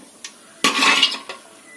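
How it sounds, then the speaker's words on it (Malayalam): Peanuts being fried for masala peanuts and scooped from the pan: a few close metallic scrapes and clinks of a spoon against the pan, one longer scraping scoop in the middle, with faint frying underneath. "ഇതുപോലെ നമുക്ക് എല്ലാ കപ്പലണ്ടിയും ഒന്ന് വറുത്ത് കോരിയെടുക്കാം."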